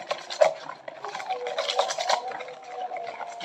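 Chicken pieces being stirred and turned in a wet batter with baking powder, soft squelching and scraping sounds, close and fairly quiet, with faint background voices.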